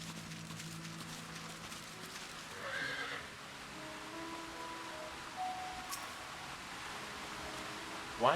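A horse neighs in the video game Final Fantasy XIV Endwalker, one short whinny cutting through a soft ambient game soundscape with faint rustling, and a brief sharp sound at the very end.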